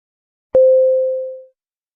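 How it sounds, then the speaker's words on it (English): A single clean electronic beep sounds alone after a short silence, a steady mid-pitched tone lasting about one second and fading out before silence returns. "Start speaking after the beep."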